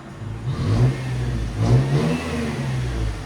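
A Toyota FJ Cruiser 4.0L V6 revs up twice through an MBRP cat-back exhaust, with a deep, throaty rumble swelling and easing back to a steady idle.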